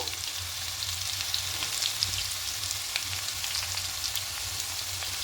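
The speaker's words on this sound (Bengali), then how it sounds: "প্রথমে আলুগুলোকে একটু ভাজা ভাজা করে নেব আলুটা হালকা ভাজা ভাজা হয়ে গেছে" Potatoes sizzle steadily in a hot pan, with a continuous crackling hiss and scattered pops throughout. No one speaks.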